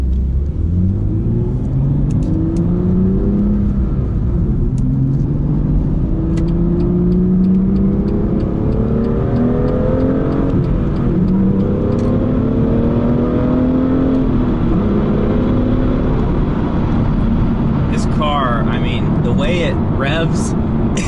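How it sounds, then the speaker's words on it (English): A BMW single-turbo engine climbs through repeated rising rev sweeps, with sharp automatic throttle blips on the downshifts near the end, loud and close with no talk. "Love the automatic blips on the downshifts."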